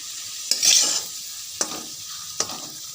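Potato pieces frying in a pan, a low, quiet sizzle broken by three sharp, close scrapes of a spatula stirring them, spaced about a second apart, with no speech.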